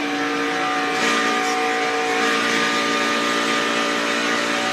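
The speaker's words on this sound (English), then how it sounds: "Listen to that engine wind out." A NASCAR Xfinity Series race car engine revs hard and steadily at high pitch during practice at Fontana, a loud continuous whine holding close by with no voices.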